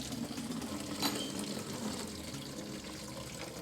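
Coolant drains steadily from a BMW B58 engine during a service, a continuous close trickle and splash of liquid with no talk over it.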